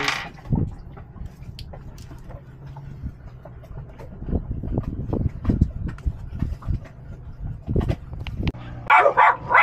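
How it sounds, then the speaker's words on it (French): Dogs bark repeatedly in irregular bursts, some close and loud, others further off, with excited yipping near the end. "Et alors, les 2 chiens sont comme des fous."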